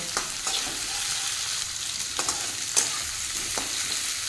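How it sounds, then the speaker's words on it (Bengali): Ginger garlic paste frying with flat beans in a pan on high flame, a loud, steady sizzle up close broken by several sharp spatula scrapes and stirring clicks. "এটাকেও শিমের সঙ্গে দিয়ে মিনিট 2-3 একটু ভালো করে হাই ফ্লেমে ভেজে নেব"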